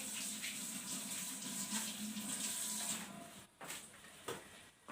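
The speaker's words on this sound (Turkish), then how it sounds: "Ellerimi yıkayacağım" Water runs steadily from a tap as hands are washed beneath it in a home kitchen, a continuous splashing hiss that briefly drops off near the end before resuming.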